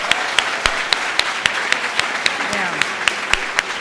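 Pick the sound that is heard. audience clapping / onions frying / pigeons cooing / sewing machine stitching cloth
audience clapping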